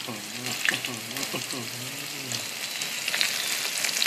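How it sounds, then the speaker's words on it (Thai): Shrimp wontons deep-frying in very hot oil give a steady, close bubbling sizzle that runs throughout, with a voice talking briefly over the start. "ร้อนมาก ๆ เลยนะครับเราก็เอาลงไปทอดเลย"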